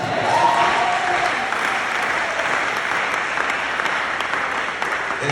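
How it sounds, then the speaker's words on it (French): Church congregation in Brazzaville applauding, a loud sustained burst of many hands clapping that fills the whole stretch with a dense, even texture. "je n'ai pas entendu vos acclamations"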